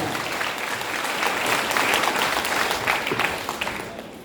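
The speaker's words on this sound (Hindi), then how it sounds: "जोरदार तालियां सबके लिए, जोरदार तालियां।" Loud, dense applause from a large audience at a motivational talk, steady for about four seconds before easing slightly at the end, with no talk over it.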